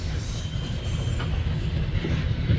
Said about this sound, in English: Here comes the end and the beginning of the second coal drag that's stacked onto this.